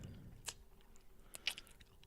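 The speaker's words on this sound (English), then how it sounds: "chewing sunflower seeds" Sunflower seeds being chewed close by, with a few soft crunchy bites and wet mouth clicks, faint and sparse against near silence.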